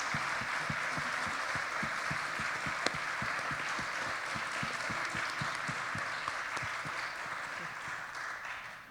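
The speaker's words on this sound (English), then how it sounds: "let's give them another round of applause" A live audience at a restorative justice series event applauds steadily for the full stretch, a dense, sustained patter of many hands at moderate volume with no talk over it.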